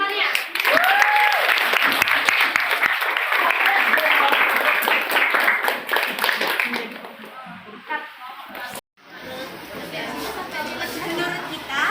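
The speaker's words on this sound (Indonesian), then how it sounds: "beri aplaus untuk temannya" A classroom of students claps for their classmates in a dense burst of applause mixed with chatter, which dies away after about seven seconds into quieter room noise.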